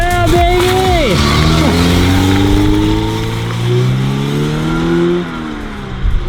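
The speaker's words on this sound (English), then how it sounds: "Timbro, are you ready for the first drive?" A B18-swapped Honda CRX accelerates hard up through the gears, its close engine rising in pitch, dropping at each shift, then settling into a steady high drone before easing off.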